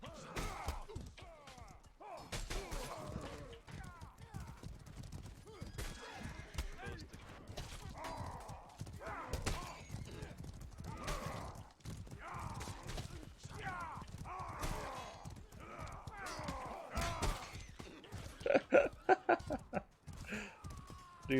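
Horse hooves clatter in a medieval battle video game, Medieval War Simulator, mixed with thuds, shattering impacts and combat noise, while a player talks excitedly over much of it.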